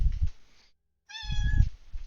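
A pet cat lets out one clear, tonal meow indoors, close to the microphone. Low room rumble and handling noise come before and during it, and no one speaks.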